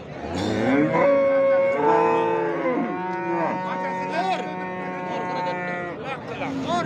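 A cow moos loudly and long, close by, at a livestock market in G'ijduvon, Uzbekistan, with people talking in the background.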